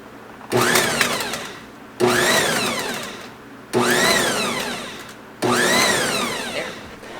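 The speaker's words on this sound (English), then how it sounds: "Now I'm just going to use the pulse to mix this in." A Nutrimill Artiste mixer with a clear bowl pulses four times to work liquid into bread dough, each burst a loud whirring motor roar rising in pitch, separated by short pauses.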